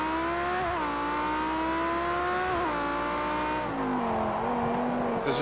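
Lamborghini race car in a racing game at the Nürburgring, engine revving hard as it accelerates out of a corner, with the pitch climbing through gear changes and a faint tire squeal near the end.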